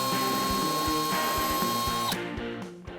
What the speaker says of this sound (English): I'm going to drill this hole right here for the bottom pin.